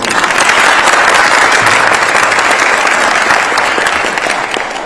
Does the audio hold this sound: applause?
yes